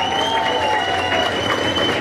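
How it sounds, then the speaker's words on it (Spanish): Applause from an audience at a Mexico City political event honoring local deputies, a dense continuous clapping with crowd noise and some faint tonal sounds over it. "Un fuerte aplauso."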